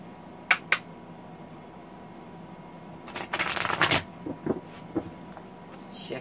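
Tarot of Dreams cards by Ciro Marchetti being shuffled close by: two quick riffle snaps, then a louder burst of flicking and sliding cards with a few softer taps trailing after.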